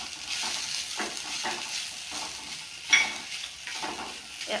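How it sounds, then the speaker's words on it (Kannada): Vegetables with grated beetroot for vegetable chitranna sizzle in a pan while a spoon stirs and scrapes in repeated strokes, with one sharper metallic clink partway through; no talking. "ಚೆನ್ನಾಗಿ ಇದನ್ನ 2 ರಿಂದ 3 ನಿಮಿಷ ಫ್ರೈ ಮಾಡಿ"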